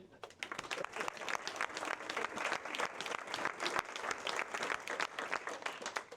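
A school audience at a 60th-anniversary celebration applauds steadily, a dense wash of many hands clapping at once, fairly quiet and without talk.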